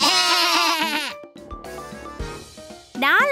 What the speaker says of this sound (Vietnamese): Đó là tiếng kêu của bạn cừu với bộ lông xù.